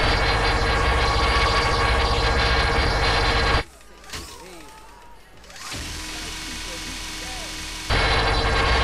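A loud, continuous stream of rapid minigun fire in a video game roars for several seconds, briefly cuts out, then resumes at full intensity.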